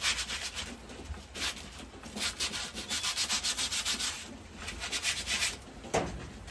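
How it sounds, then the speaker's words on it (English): Sandpaper rubs rhythmically against a wooden self-bow, a steady run of quick scratchy back-and-forth strokes, close and fairly quiet. "I used sandpaper."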